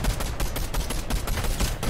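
Rapid bursts of automatic gunfire in Fortnite zombie horde mode, loud and close, firing in quick repeated volleys with no pauses.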